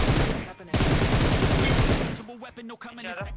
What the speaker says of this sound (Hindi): साउंड सुन रहे हो ना फायरिंग की